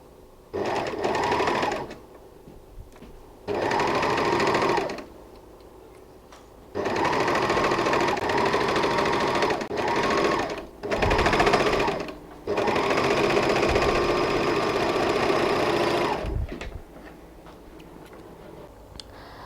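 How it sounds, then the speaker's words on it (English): An overlocker sewing machine edge-stitching a jersey top sleeve runs in several loud bursts of rapid mechanical whirring, separated by short quiet pauses, with no talking over it. "I have done the edge overlocking"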